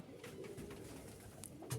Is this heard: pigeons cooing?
yes